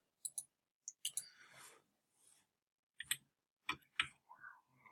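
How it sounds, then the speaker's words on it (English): Quiet keyboard keys are tapped in short irregular bursts while entering numbers for a bond accounting calculation, crisp close clicks separated by brief pauses. "I'm going to go ahead and type that in"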